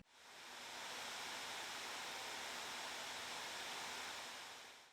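In the turbo mode profile, the fans of an ASUS Zephyrus G14 2021 laptop make a steady, fairly soft rushing hiss that holds constant for about five seconds with no other sound.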